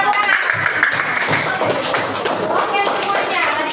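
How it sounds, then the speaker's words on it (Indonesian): A class of students clapping together in a classroom, a dense run of close hand claps that continues steadily with voices mixed in. "Oke, tepuk tangan."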